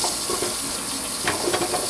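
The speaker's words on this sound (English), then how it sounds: "It's the boiling of the jars themselves." Steady bubbling and hissing of jars boiling inside a closed Presto pressure canner, with faint rattles and pops over a constant rushing noise.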